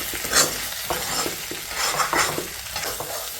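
Chicken frying in a pan with ginger and garlic, an Assamese home dish, gives a loud, close sizzle broken by scraping stirs that rise and fall every second or so, with no talking.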